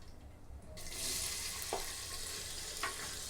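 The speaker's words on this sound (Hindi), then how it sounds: "जैसे जिंजर गार्लिक का पेस्ट थोड़ा सा भून जाए हम इसमें 1 कटी हुई प्याज डाल देंगे।" Chopped onion dropped into ginger garlic paste frying in a pressure cooker for aloo pulao, with a sudden loud hiss that swells into a steady sizzle and a couple of soft stirring scrapes.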